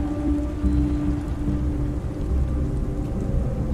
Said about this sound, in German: Regen. Sieht nicht aus, als ob es jemals wieder aufhört.